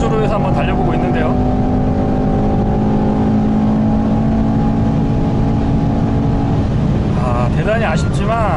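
A Mercedes E63 AMG 4MATIC engine drones steadily and loudly on a straight, holding a high revving tone before easing off near the end at the engine limiter.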